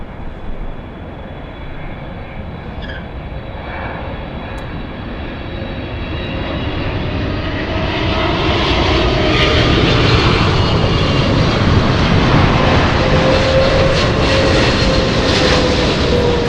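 Swiss airliner jet landing at LAX, a broad engine roar that swells steadily louder as it nears and holds strong toward the end, heard alone without talk.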